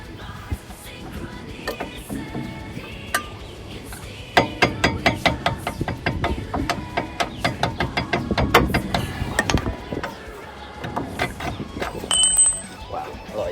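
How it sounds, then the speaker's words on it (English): Brake pad retaining pin being driven out of a GR Yaris caliper, heard as a series of sharp metallic taps and knocks in quick repeated bursts, close by. "Let's try and get this last pin out."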